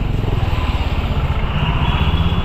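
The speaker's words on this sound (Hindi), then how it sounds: "यहाँ बहुत ट्रैफिक है" Dense street traffic with motorcycles, engines rumbling close and continuous in a loud, steady wash of motor noise with no clear gaps.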